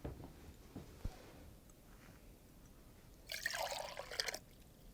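Hot water poured from one container into another, a quiet, close trickle that swells into a brief, brighter stream of pouring near the end.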